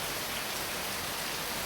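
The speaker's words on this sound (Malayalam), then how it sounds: "നല്ല മഴയാട്ടോ" A steady, loud wash of heavy Kerala downpour, a continuous broadband hiss with faint pattering of drops on surfaces and no voices.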